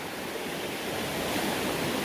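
Steady broadband rush of a river flowing past a small sandy beach along a forest trail in Virginia's Appalachian backcountry, continuous and fairly close, with no voices.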